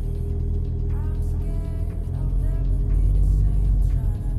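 A Seat Leon 1.6 TDI with a DSG gearbox accelerating from a crawl, a close diesel drone that steadies and then builds in pitch as the car pulls away, with a shift change partway through.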